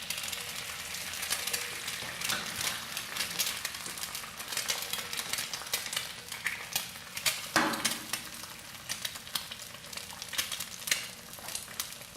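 Bacon and eggs fry on a Camp Chef FTG600 flat top grill with the burner turned up toward high, giving a constant soft sizzle and crackle and a few faint scraping clicks of a utensil.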